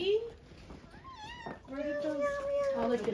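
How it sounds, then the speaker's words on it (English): A cat meows in a few rising, wavering calls during a Halloween trick-or-treat outing, heard up close while people chatter around it. "The kitty cat."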